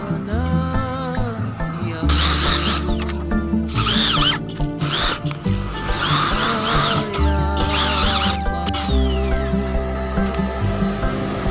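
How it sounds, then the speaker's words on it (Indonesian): A power drill enlarges a hole in metal, whining close and loud in repeated bursts that rise and fall against a steady mechanical hum, with no voices. "Setelah kita bor-bor untuk membesarkan tempat bor ini"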